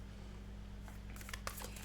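Tarot cards being shuffled, giving soft papery riffling bursts in the second half over a low steady hum, faint and close.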